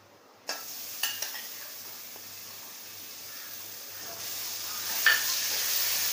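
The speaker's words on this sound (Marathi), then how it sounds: "तेलामध्ये पूर्ण अशी परतून घ्यायचे" Crushed raw green chillies frying in oil for bread cutlets: a sharp crackle as they land in the hot pan, a few utensil taps, then a quiet steady sizzle that swells again near the end.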